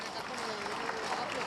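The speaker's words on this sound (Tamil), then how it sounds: "மேகாஸ்ரீக்கு அரங்கு நிறைந்த கைத்தட்டல்களால் நன்றியை தெரிவித்துக் கொள்வோம்." Audience applause fills a hall at a Tamil school event honouring someone speaker, steady and dense throughout, with a faint voice underneath.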